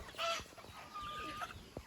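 Free-range native country chickens give short clucks and a brief higher call, close by and fairly faint over a quiet background.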